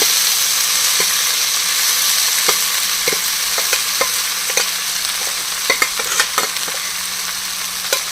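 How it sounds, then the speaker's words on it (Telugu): Leafy greens hit hot tempering oil in a pan and sizzle steadily and loudly, with scattered sharp clicks of a spoon stirring throughout and no talk. "ఈ మనం కూర పోపులో వేసేస్తాము"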